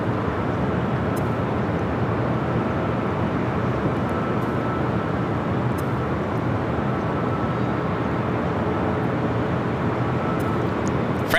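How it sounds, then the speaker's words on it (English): An Avianca A320neo bound for San Salvador takes off from runway 24L at Los Angeles International Airport, a constant broad jet roar that stays level and loud across the whole stretch with no voices. "With the next takeoff on 24 left here on the north side."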